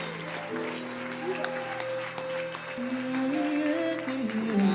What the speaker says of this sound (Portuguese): E se você concorda com essa oração, aplauda ao Senhor nessa noite.